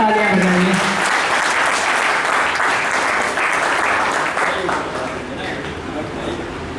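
A room full of people at a company wage-agreement gathering breaks into loud, sustained applause that slowly thins out over several seconds, with a voice briefly heard at the start.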